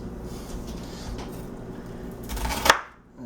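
A knife slices through an onion on a cutting board, a soft scraping cut building to one sharp chop near the end, close and fairly quiet.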